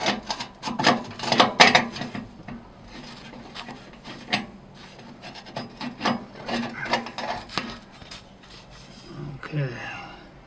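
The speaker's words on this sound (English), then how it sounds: "Take that cover off." A cover being worked loose and pulled off a Harman pellet stove, with close scraping, rattling metal and a few knocks, while a person talks over it.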